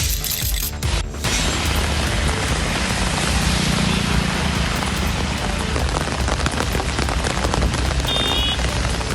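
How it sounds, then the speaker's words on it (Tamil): Steady rain falls in Delhi, a dense, continuous hiss of drops spread evenly across the whole stretch, loud and close with no voices. "டெல்லியில் மழையுடன் கடும் குளிர் நிலவியது."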